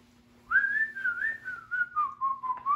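A person whistles a single wavering tune that glides down slowly over a couple of seconds, close and clear over a faint steady hum, with no talking.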